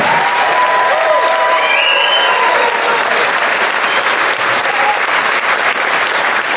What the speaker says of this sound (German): Genießen deinen Applaus.